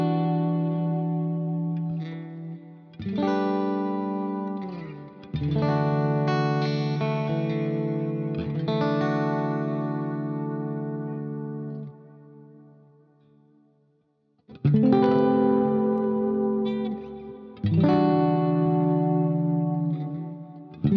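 Kiesel Zeus electric guitar run through Archetype Nolly amp plugins, playing loud, effects-heavy sustained chords with chorus, distortion and echo; the notes ring out, fade into a brief near-silence, then return with fresh strummed chords.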